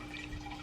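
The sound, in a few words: running water of a fish tank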